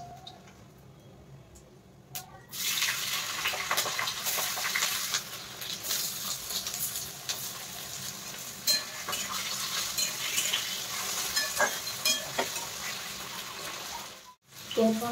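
Potatoes drop into hot mustard oil seasoned with dried red chillies and cumin, setting off a sudden loud sizzle that continues steadily, broken by spatula scrapes and metal clinks as they are stirred.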